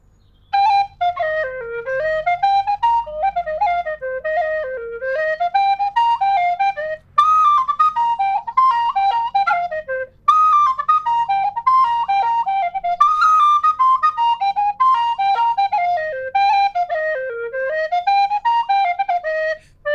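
A tin whistle plays a lively Irish folk set, Charming Lovely Nancy, with rapid ornamented melodic runs that rise and fall. It is clear and prominent over a faint low backing, without speech.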